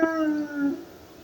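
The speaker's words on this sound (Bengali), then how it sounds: "দূর থেকে কুকুরের কান্নার শব্দ ভেসে আসতে থাকলো।" A dog lets out a single drawn-out howl, wavering and fading over about a second against a low background hiss, used as a horror story sound effect.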